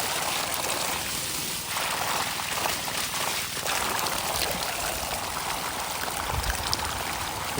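Water pours steadily from the outlet pipe of a solar-powered pump sending water uphill for a durian orchard, a continuous close rushing splash with no talk.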